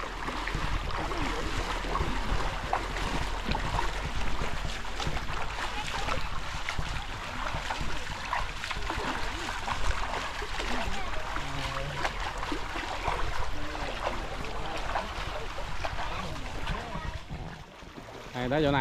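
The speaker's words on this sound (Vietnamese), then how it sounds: "cái dòng suối này, cái này suối Tiên." Water runs steadily in a shallow stream at Suoi Tien in Mui Ne, a continuous close rushing and splashing that lasts throughout, with voices and outdoor background mixed underneath.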